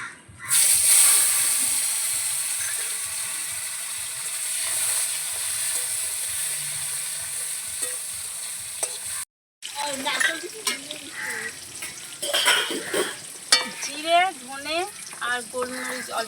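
Chopped tomato hits hot oil with cumin in a pan and sets off a loud hissing sizzle that settles to a steady frying hiss. After a brief gap a voice talks over a fainter sizzle.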